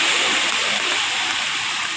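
Sea waves in Manila Bay wash and splash steadily against a fishing boat, a continuous close hiss of churning water without a break.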